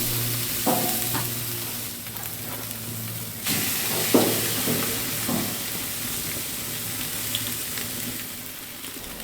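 Chicken seasoned with olive oil, salt and pepper cooking on a wood-fire braai, giving a soft, steady sizzle with occasional crackles and faint stirring knocks, heard alone at low level.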